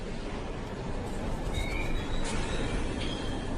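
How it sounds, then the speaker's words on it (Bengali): A train rolls and slows, a continuous low rumble of wheels and carriages with a faint metallic squeal rising briefly near the middle, heard up close as a sound effect without talk. "কিছুক্ষণের মধ্যেই ট্রেনের গতি কমে এলো।"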